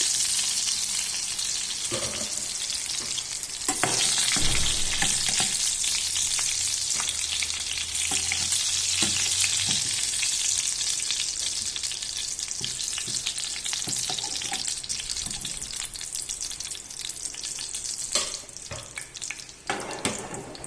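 Fish fries in batches in hot oil, a loud, dense, continuous sizzle and crackle with occasional clanks and scrapes as pieces are turned and lifted out.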